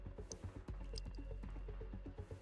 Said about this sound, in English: The sound of water dripping echoes through the empty set